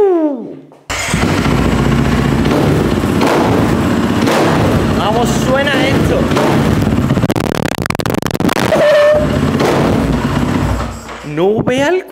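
A motorcycle engine fires up and revs loudly in repeated bursts, close by, with a voice speaking briefly over it.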